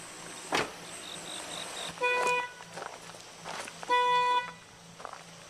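A parked car's alarm blares in repeated bursts of honking tones, two loud sustained blasts separated by quieter gaps over a steady background hum.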